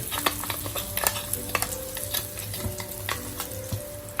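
A ground spice paste with crushed garlic cloves sizzles steadily in hot oil in a pan, with occasional sharp spoon clicks and scrapes against the metal, close up and continuous.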